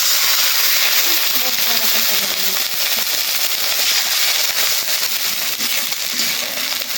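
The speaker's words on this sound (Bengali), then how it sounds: "ডাল বসাইতেছি। একটু পানি দিলাম।" Water poured onto masoor lentils frying with onion and garlic in a pan sets off a loud, steady hiss and sizzle that runs throughout, with faint crackling underneath.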